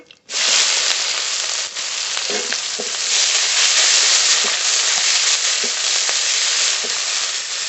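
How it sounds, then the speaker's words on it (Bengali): Chopped onion fries in hot oil with a black cumin and bay leaf tempering for a fish curry, giving a loud, steady sizzle that starts abruptly and holds throughout, with occasional faint scraping stirs and no talking. "পেঁয়াজটা একটু ভাজা ভাজা করে নেব"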